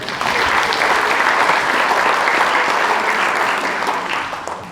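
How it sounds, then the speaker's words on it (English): An audience at a lecture breaks into sustained, even applause lasting several seconds, full and dense before tapering slightly at the end. "I think that deserves a round of applause, don't you think?"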